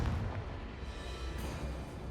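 Confringo fire spell going off in Hogwarts Legacy as a deep, booming blast with low rumble at the onset, trailing into a softer crackling roar over about two seconds.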